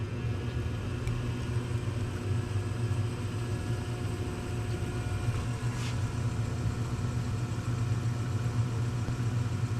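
A 360 Magnum V8 rotating assembly is spun over by a drill at about 400 RPM, giving a steady, continuous low mechanical hum and rumble with no speech.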